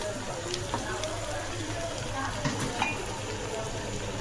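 Beef and fat roasting in a pot for Afghani pulao, a soft continuous sizzle with light stirring scrapes and small clinks, under a voice talking.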